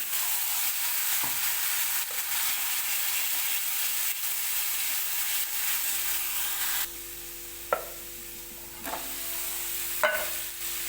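Masala sizzles steadily in a hot pan of ginger-garlic paste, a close, continuous broadband hiss, broken by a few light scraping stirs toward the end. Nobody speaks.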